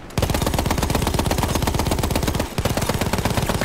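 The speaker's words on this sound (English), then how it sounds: "I can't believe I didn't win that gunfight." Sustained machine-gun fire, likely the MG15 light machine gun, during a gunfight in Battlefield 1 on a mountain map, with rapid continuous bursts, loud and close, and a brief break before the shooting resumes.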